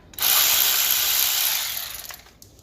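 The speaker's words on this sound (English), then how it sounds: "There are two 10 plastic mil bolts to undo." A ratchet spins off a 10 mm plastic arch liner bolt on an Alfa Romeo MiTo, giving a close, loud, hissing whir that lasts about two seconds before tapering off into a few softer clicks.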